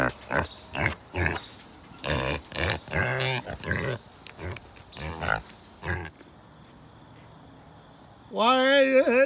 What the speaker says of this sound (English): let's go ahead and feed our mini pigs